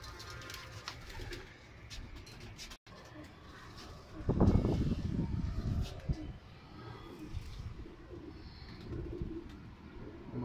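Teddy pigeons coo softly in a loft setting, low murmuring calls recurring through the scene, with a louder burst of cooing and fluttering midway and faint background voices.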